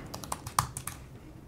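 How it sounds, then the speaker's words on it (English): Someone types a password on a laptop keyboard to unlock a fingerprint-secured Samsung T7 Touch portable SSD: about eight crisp, close key taps at an uneven pace, with no talking. "I'm gonna type that in now"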